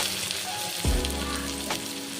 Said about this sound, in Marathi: सगळा मसाला मिक्स करून थोडंसं परतून घ्यायचं आहे।